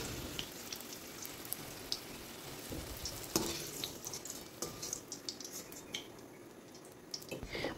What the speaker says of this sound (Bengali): আলুগুলো লাল লাল করে ভেজে নিয়েছি, এখন তেল থেকে তুলে নিচ্ছি।